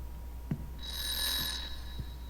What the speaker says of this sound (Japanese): 目覚まし鳴りましたよ。